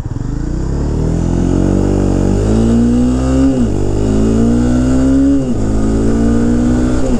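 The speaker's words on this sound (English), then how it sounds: "Like, that's full pin throttle." A 2016 Honda CBR 300R motorcycle engine revs hard at full throttle, loud and close, climbing in pitch in repeated surges, each dropping back between pulls with no talking.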